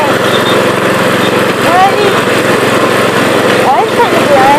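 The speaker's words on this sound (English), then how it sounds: "I hate it when it grinds." A homemade hot rod cruiser's small engine drones loud and close with a continuous grinding, buzzing tone; faint squeaks cut through, and a voice can be heard under the noise.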